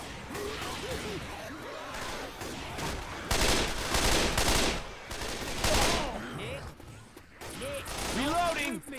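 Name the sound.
gunfire at zombies in a video game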